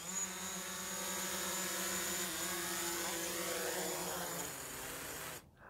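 A camera drone's propellers whine steadily as it descends to land during a campus drone workshop, a continuous buzzing hum with rising and falling harmonics, fairly close, cutting off abruptly at the end.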